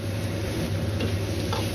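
Chopped chili and pan-fried tofu stir-fried with black bean chili sauce in a wok, a close steady sizzle with light scraping and tapping of a spatula.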